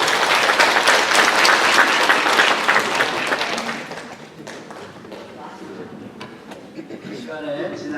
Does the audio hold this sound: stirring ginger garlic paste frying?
no